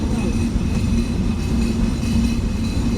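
The Rupsha Express passenger train pulls out of Alamdanga station bound for Chuadanga, giving a loud, steady rolling rumble with a persistent low hum and faint rail rattle.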